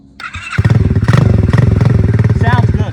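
A Chinese motorcycle bought from Temu, fitted with an unusual exhaust pipe, starts up and revs loudly up close, its engine note rising and pulsing steadily while people talk over it.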